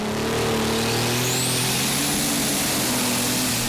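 New Holland TVT 100 pulling tractor, a 3.5-ton Super Stock class machine, roaring steadily at high revs in an arena pull at Bryne, with a loud droning engine tone and shifting harmonics over a continuous wash of crowd and track noise.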